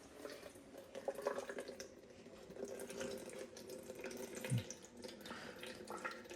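Water runs steadily through a filtration filter bag, a soft, continuous trickle and rush at low volume with a brief louder splash partway through.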